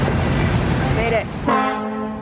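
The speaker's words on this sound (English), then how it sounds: "Then he honked at us, stressed me out." Car horn honking on a city street in Hamilton near Lake Ontario, a short harmonic blare heard briefly and then a second longer sustained honk.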